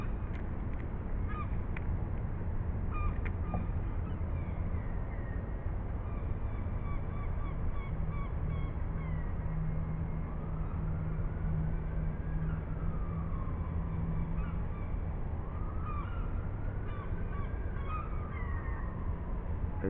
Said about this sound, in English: Enjoy the wonderful sounds of the birds,